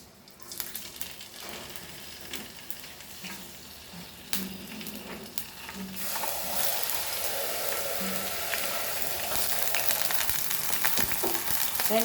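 Curry leaves and chilies sizzle in about a tablespoon of hot oil, a steady crackling fry that grows denser and louder partway through.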